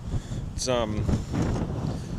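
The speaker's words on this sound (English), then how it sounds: "Blowing an absolute gale." Strong gale-force wind buffets the microphone on the road through New South Wales, a rough low roar with gusts throughout while someone briefly speaks.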